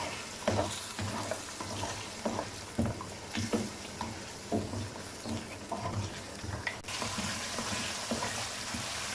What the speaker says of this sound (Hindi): इसे अच्छे तरीके से 10 मिनट तक दही के साथ भून लेंगे तेज़ आंच पर।